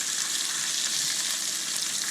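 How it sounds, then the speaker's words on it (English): Marinated chicken tenders fry in hot oil, sizzling and crackling steadily in a continuous bright hiss with no voices. "that is frying up"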